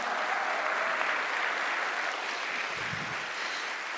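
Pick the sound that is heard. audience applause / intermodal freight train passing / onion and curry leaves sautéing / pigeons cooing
audience applause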